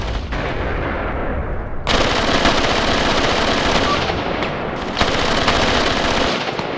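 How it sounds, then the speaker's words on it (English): MG34 machine guns in the WWII tactics game Graviteam Tactics Mius Front, firing sustained loud bursts with dense rattling gunfire and distant explosions, the intensity rising sharply after a brief lull. "And my machine guns, MG34, they are just ripping."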